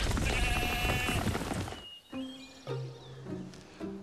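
A goat bleats in several short, wavering calls after a loud burst of rushing noise fades out, the bleats close and clear with brief pauses between them.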